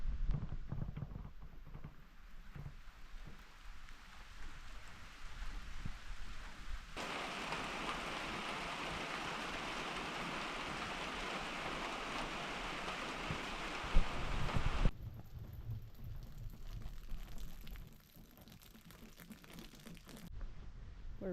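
Steady rain falls outside an old abandoned greenhouse, a continuous wash of patter that swells louder in the middle stretch and eases again toward the end, with no voices.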